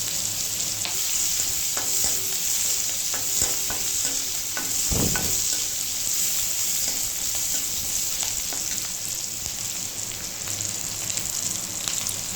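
Onions and panch phoron frying in hot mustard-style fish-frying oil in a pan, a steady loud sizzle throughout with stirring scrapes and a brief louder burst midway, no talking.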